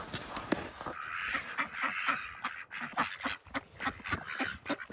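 Ducks snowed in on a snowy ranch give a dense, continuous chorus of overlapping quacks and honks, close and fairly loud, with no speech.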